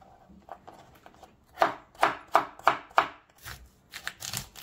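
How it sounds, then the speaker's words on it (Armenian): A knife finely chops vegetables on a board in a quick run of about six sharp, evenly spaced cuts, close and clear, followed by a few softer scattered taps. "Հիմա սա մանր կկտրատեմ"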